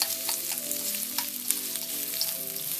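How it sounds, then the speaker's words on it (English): Pasta slices fry in a pan for nui xao bo, giving a constant loud sizzle with scattered crackles and light stirring scrapes, close and without talk. "Going to give them a little bit of a fry."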